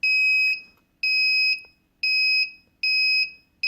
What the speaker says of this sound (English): So the closer it is to a leak, the faster it should beep, till you get that solid tone